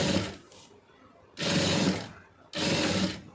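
A sewing machine stitches a blouse in three separate bursts, each a close, steady mechanical whir of about half a second to a second, with short quiet gaps between them.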